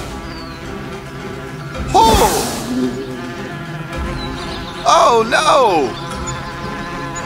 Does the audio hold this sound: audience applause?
no